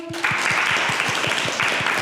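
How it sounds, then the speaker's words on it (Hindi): Children in a school hostel in Chhattisgarh clap together in a steady, even rhythm of about eight claps, close and fairly loud. "ताली बजाओ सब लोग।"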